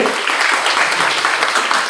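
Audience at a Premchand Jayanti college program clapping steadily to welcome guests, a dense, even wash of applause from a crowded hall.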